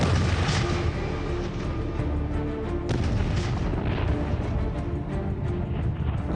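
Medieval cannon fire, as at the Battle of Crécy in 1346, rolls on as a dense, continuous thunderous rumble of booms and blasts. The roar stays loud and unbroken throughout, with no voices.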